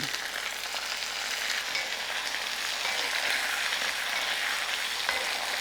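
Onions and tomatoes fry in a pan, a steady, dense sizzle that runs unbroken from start to finish at close range with no voices over it.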